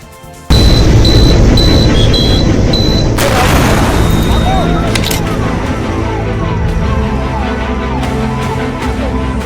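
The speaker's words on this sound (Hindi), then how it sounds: "कार में जोरदार ब्लास्ट" A car bomb explodes in Delhi with a sudden loud boom, followed by a long rumbling roar and debris-like noise that slowly fades, with a faint tone heard beforehand.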